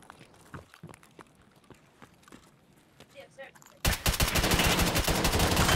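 Gunfire from the Escape From Tarkov video game, with a few scattered taps and steps before a sudden, loud, sustained burst of rapid shots in the final two seconds.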